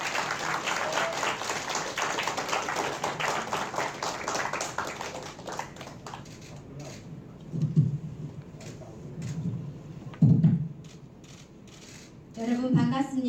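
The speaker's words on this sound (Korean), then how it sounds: "여러분 큰 박수 부탁드리겠습니다" Applause at a Seoul education superintendent candidate's press conference, a dense clatter of many hands filling the first six seconds before thinning to a few scattered claps and taps, then a voice begins near the end.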